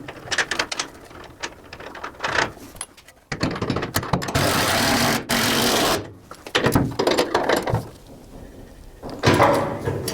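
A coilover top bolt nut on a Ford F100 with an S550 rear assembly is tightened with a power tool, giving several loud whirring and ratcheting bursts separated by short pauses and small clicks.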